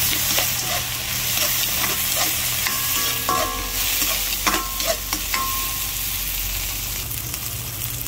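Chopped tomatoes fry with chicken in a pan, a loud close sizzle broken by scraping and clinking stirring strokes, with no voices.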